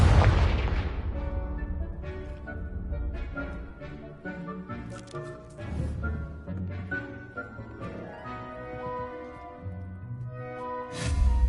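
Confringo blasting spell explosions in Hogwarts Legacy, with a heavy boom at the start followed by several booming bursts and rumbling impacts, the last one near the end.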